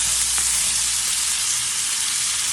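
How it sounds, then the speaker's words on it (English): Onions sizzle steadily in a pan with spices for chicken korma, a dense, even hiss of frying that stays close and loud throughout, with no voices. "to cook the onions for about 10 minutes till they're translucent"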